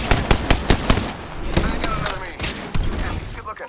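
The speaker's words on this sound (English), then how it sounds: "Shots fired and they're hitting me." Rapid automatic gunfire bursts out in the video game Apex Legends, loud and close, followed by scattered shots and impacts as a voice talks over the action.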